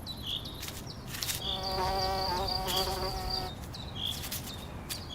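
Insects buzz steadily around viper's bugloss flowers growing on compressed industrial ground, with several flies or bees droning close by and passing in and out, no voices.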